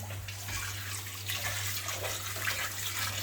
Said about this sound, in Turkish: şimdi bir sudan daha geçireceğim ben bunu